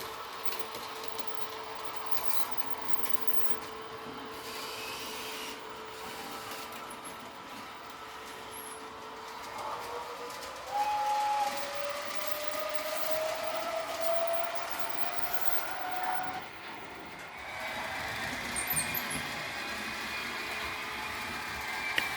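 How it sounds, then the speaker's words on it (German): A Märklin H0 model railway S-Bahn train runs along the layout, a steady electric hum and whine with shifting motor pitch, occasional rail clicks, and a louder passage midway as it rolls by. "Hier kann man einen schönen S-Bahn-Zug sehen aus der vergangenen Epoche."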